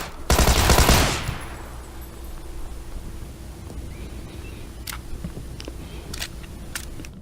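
A shotgun blast in the battle-royale game PLAYERUNKNOWN'S BATTLEGROUNDS comes as one loud, harsh burst lasting under a second. Sparse, fainter clicks and distant pops follow over a low steady background.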